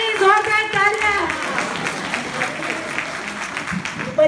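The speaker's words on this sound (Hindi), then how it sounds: "मेरे लिए जोरदार तालियां।" Audience applause for a speaker at a seniors' meeting, a dense wash of clapping that holds steady for several seconds, with a raised voice heard briefly near the start.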